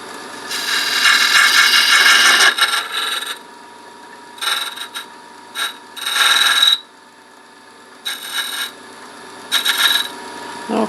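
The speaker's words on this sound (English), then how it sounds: "now I'm just going to bring this back just a little bit with this box scraper" A box scraper cuts inside a wood-turned box spinning on a lathe, giving loud rasping scrapes in a long opening pass followed by several shorter bursts with quiet gaps between them.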